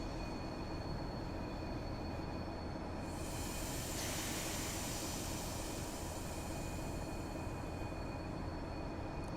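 Goods train standing at a passenger platform in Train Simulator, a steady low rumbling drone with a brief hissing swell partway through, continuous and fairly quiet, no voices.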